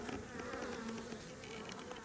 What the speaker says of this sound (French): on voit les abeilles à l'entrée